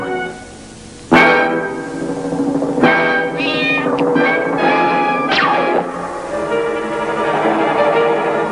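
A cartoon cat lets out loud, drawn-out meows and yowls over a busy background of music and crashing effects, with sharp hits punctuating the scene.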